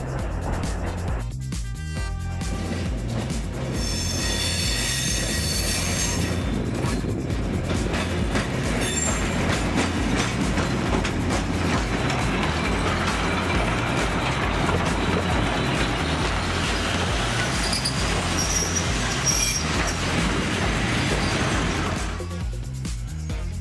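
A heritage railway train in South Australia rumbles steadily along the track, with a continuous low roll, wheel clatter and occasional high metallic squeals, loud and close.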